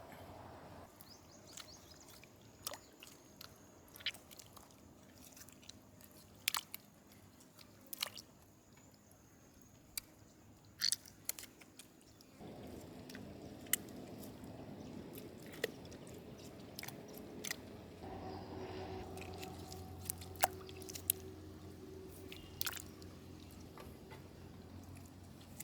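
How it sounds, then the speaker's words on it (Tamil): Hands mashing tomatoes in tamarind water while preparing a village-style boiled sea catfish dish, a faint, irregular squishing and squelching that stays close but quiet, with scattered small ticks and drips. "தக்காளி நல்லா பிணைஞ்சு போடணுமுக்கா."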